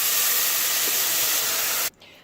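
Vinegar hits a hot cocotte to deglaze it, letting out a loud, close, steady hiss of spray and steam that holds for about two seconds, then cuts off abruptly into quiet.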